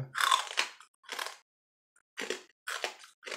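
Loud crunching bites of an edible lightbulb come in about five separate bursts with short pauses between them, close to the mic and heard alone.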